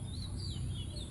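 Sweet, sliding whistled notes from a male oriental magpie-robin repeat several times in quick succession over a constant low rumble, with the bird a little way off.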